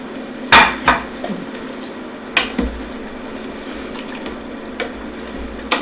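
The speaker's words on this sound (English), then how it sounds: "now we're going to put in some of our cauliflower" Cauliflower goes into a cooking pot for butter chicken, giving a couple of sharp metallic clanks and clatters near the start, then a few softer knocks against the pot over a low steady kitchen background.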